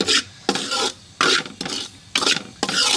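Dry semolina for halwa is stirred in a hot pan, a spoon scraping in repeated gritty rasps, about six short bursts with brief pauses, close and fairly loud with no talk.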